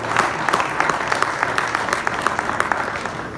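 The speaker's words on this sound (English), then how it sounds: "big round of applause for them at their last performance" An audience at a rugby gala panel gives a full round of applause, dense clapping holding steady throughout with a few louder individual claps standing out.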